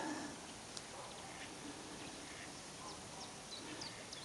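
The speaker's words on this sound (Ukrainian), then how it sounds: "Десь там качки" Faint duck quacks scattered at a distance over a steady outdoor hiss of water and wind at a city park pond.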